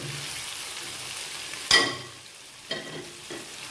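Jackfruit and potatoes fry together with turmeric, salt and spices in a pan, giving a low steady sizzle broken by a few louder stirring scrapes near the end, with no talking.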